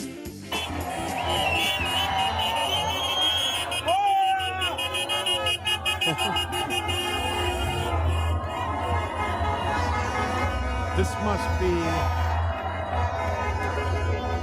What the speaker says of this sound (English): the New Year's Eve crowd in Times Square.